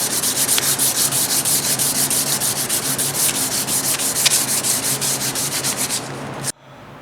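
Hand sanding of the original paint on a Raleigh Bomber bike frame, a close, steady run of rapid rhythmic rubbing strokes that stops abruptly near the end.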